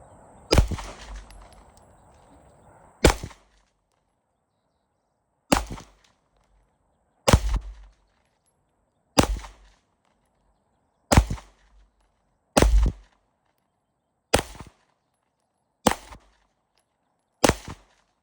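Ten sharp, loud pistol shots from a Springfield Ronin EMP fired at a target at seven yards, evenly spaced about two seconds apart, with brief ringing after each and quiet between.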